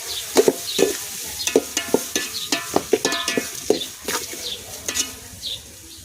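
Green chillies with salt and turmeric being stirred in a pan over a wood fire outdoors: repeated scraping, clinking strokes of a spoon against metal in an irregular rhythm, close and clear over a faint sizzle.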